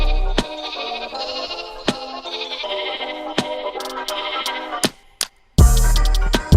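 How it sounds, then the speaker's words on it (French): A short melody built from Minecraft sheep bleats, pitched into tones and played as a looping tune, with sharp percussive hits between phrases and a louder, denser burst near the end. "Pendant le pont, j'ai rajouté une petite mélodie que j'ai faite avec des bruits de moutons."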